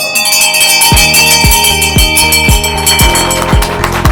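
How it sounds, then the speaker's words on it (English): A stock exchange opening bell clangs rapidly and repeatedly in a steady rhythm at a market opening ceremony, loud and close, its ringing overtones blending into a dense metallic wash. "the bell ringing will signify the opening, the official opening of the market"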